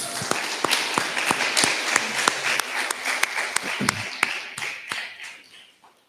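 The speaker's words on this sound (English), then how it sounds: "Let's give her another round of applause" Audience applause for a student's senior thesis presentation at Logos Academy, a steady wash of many hands clapping with a few sharper individual claps, fading out near the end.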